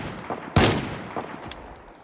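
A shotgun fires at zombies in the video game Project Zomboid, one loud close blast standing out over softer scattered thuds and a faint later click, with no talking.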